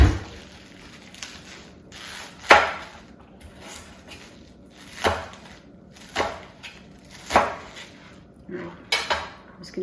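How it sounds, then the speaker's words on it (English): Green onions are chopped on a wooden cutting board in a home kitchen. A knife strikes the board in sharp, irregular knocks and scrapes, a handful spread across the stretch, close and clear, with no talking. "let me just chop some of these green onions up"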